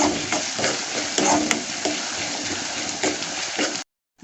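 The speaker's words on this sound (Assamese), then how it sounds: "আৰু ইয়াতে আদা ৰচুন দি দিছোঁ।" Ginger and garlic frying in a pan for a paneer dish, a constant close sizzle with intermittent stirring scrapes, then a sudden cut to silence at the end.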